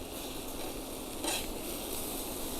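Ramps stirred in a hot pan, a dense, steady sizzle close up with a brief louder scrape of the stir midway, no talk.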